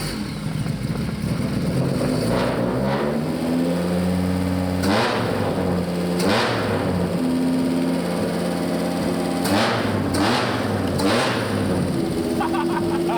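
Volvo 850 Estate with custom individual throttle bodies and headers, built as a BTCC tribute, running with a raspy five-cylinder note and repeated sharp throttle blips rising and falling, loud and close.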